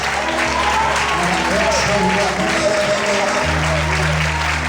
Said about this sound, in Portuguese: Quantos podem aplaudir nessa noite?